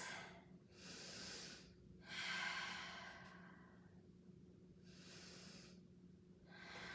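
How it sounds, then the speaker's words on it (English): Slow, deep breaths during a Pilates reformer class while resting in child's pose, with a long airy inhale and exhale, then another breath cycle, close and soft over a faint steady hum. "Take a couple nice deep breaths."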